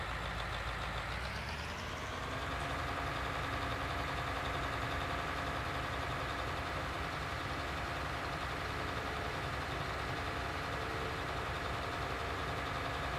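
A tractor engine in a farming video game revs up at the start, then settles into a loud, steady, continuous drone with no talking.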